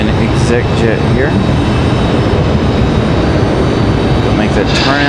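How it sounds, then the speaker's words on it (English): An executive jet at Raleigh-Durham International Airport, a steady loud roaring engine drone that fills the whole stretch, with faint chirps at the start and end. "Exec jet here."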